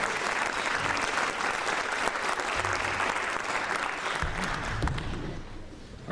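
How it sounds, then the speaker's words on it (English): Crowd at a high school jazz night concert applauds families and parents, a full, steady round of clapping lasting several seconds, with faint voices mixed in and a gradual fade near the close. "give yourselves, families and parents and guardians especially, a round of applause for all you do for these kids"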